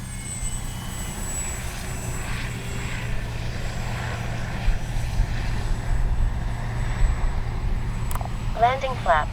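A Kavan Bristell B-23 RC model plane flies at a windy field, its engine a steady, moderately faint drone that swells slightly toward the end, with people talking nearby.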